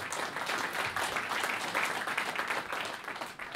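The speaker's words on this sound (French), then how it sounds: "Je vous demande de l'applaudir, il s'agit de Jérémy Lagardeur." Audience applause for a guest introduced at a talk, a dense continuous wash of clapping from a crowd, fairly distant and even, with no speech.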